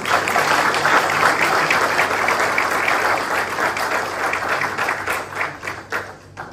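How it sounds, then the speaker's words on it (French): Dense, loud applause from an audience honouring the Enactus Tunisie team's world championship win, sustained for several seconds before thinning into scattered claps at the end, with no talking. "Donc je pense qu'on peut les applaudir."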